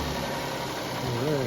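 A car engine idles steadily right after being jump-started, a low continuous rumble with a faint murmur of voice underneath.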